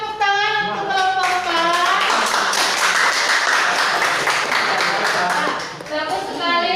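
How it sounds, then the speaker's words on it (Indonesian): A class applauding group 4 at a school performance assessment, a sustained burst of many hands clapping that swells and then fades, with voices talking before and after. "Tepuk tangan untuk kelompok"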